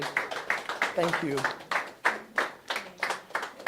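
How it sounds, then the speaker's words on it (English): Audience applause at a coding academy introduction session, a burst of hand clapping with uneven rhythmic claps, close by, while a voice speaks briefly over it. "A round of applause for everybody"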